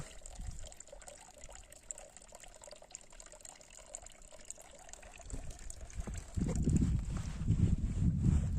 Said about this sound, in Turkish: Çeşmemiz de hala akıyor.